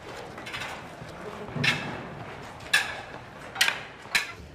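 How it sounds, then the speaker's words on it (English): Baked agave is ground the traditional way for mezcal in Oaxaca, Mexico: a steady mechanical rumble broken by a few distinct knocks and creaks at irregular intervals, heard fairly close with no speech. "This is still how they grind the baked agave."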